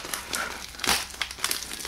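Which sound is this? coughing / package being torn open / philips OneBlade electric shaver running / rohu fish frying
package being torn open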